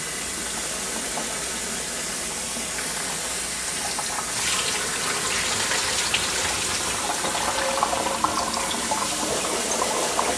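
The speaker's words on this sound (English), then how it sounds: "Let's keep rinsing them up until the water comes out clear." Water pours steadily from a tap into a sink as freshly picked wild garlic is rinsed, a continuous loud gushing splash with occasional small knocks.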